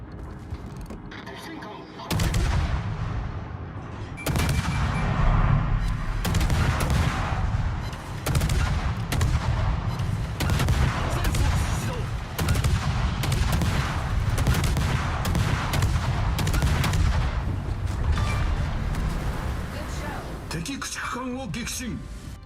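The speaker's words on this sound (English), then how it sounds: "we should probably start shelling Iowa" Naval guns firing on a battleship in the game World of Warships, heavy booming salvos repeating every couple of seconds over a rumbling battle bed. Someone talks throughout.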